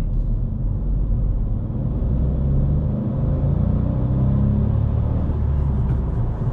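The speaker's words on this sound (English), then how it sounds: "as soon as the turbo spools up, this car is going" A 2020 Kia Stonic's turbocharged 1.0-litre petrol engine drones steadily with a deep rumble, building slightly in intensity as it accelerates, heard from inside the vehicle.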